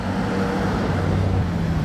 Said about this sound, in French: Olé, le downshift.